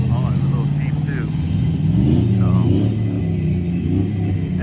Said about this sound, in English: So you got a V8 Toyota lifting going right there.